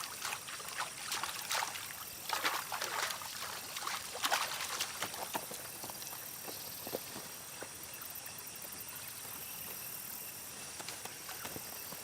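A baby gorilla splashes in shallow river water, with irregular slaps and sloshes that are louder early on and then ease into lighter dribbling and trickling under forest ambience.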